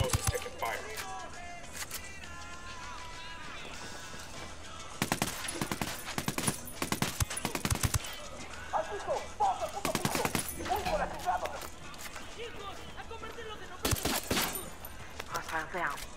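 Video game gunfire in a camp-clearing firefight, repeated bursts of rifle and machine-gun shots in clusters, sometimes loud and close and sometimes more distant, with people talking over it.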